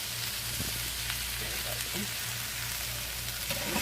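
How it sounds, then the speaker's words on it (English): Onions and peppers sizzle steadily in a hot pan, a continuous crackling hiss close to the ear with a low rhythmic hum underneath. "So, hear them onions and peppers sizzling."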